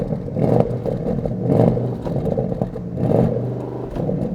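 A Porsche Panamera's exhaust in Sport Plus mode is revved repeatedly against the rev limiter, giving three loud, gravelly surges that bounce off the limiter and drop back between blips, heard close and without talking.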